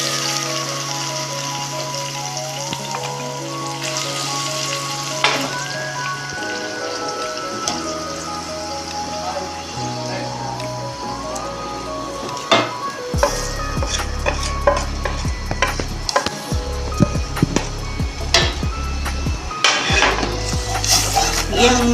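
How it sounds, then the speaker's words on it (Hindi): Spices sizzling as they fry in a pan for masoor dal, a steady crackling hiss with occasional clinks of a spoon against the pan, heard over background music. "ये हम मसाला भुन जाए हमारा"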